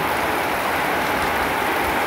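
Autumn rain pours down over rural Bangladesh on a rainy morning, a close, unbroken wash of hissing drops at a uniform level from start to finish.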